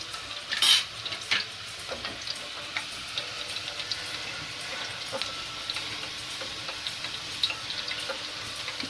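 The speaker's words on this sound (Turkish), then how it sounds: "Bir yandan da kıymamı kavuracağım" Ground meat sizzles in a pan, being browned for karnıyarık, while a utensil stirs and scrapes at irregular intervals, with a soft, steady frying hiss underneath.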